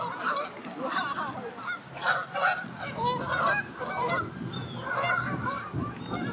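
Geese honking loudly and continuously in a noisy, overlapping chorus of calls, close by, with no talk over them.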